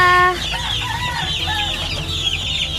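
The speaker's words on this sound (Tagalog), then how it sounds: "Oh, kain na, manok." Fighting roosters and chickens cluck and crow close by while being fed, with a chorus of overlapping calls and a brief crow near the start.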